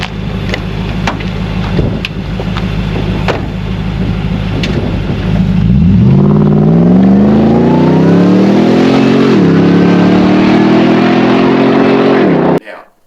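A Nissan Y62 Patrol fitted with a Dash Zero midsection exhaust idles with clicks, then accelerates hard from 0 to 100, its engine note climbing loudly through a gear change before cutting off abruptly.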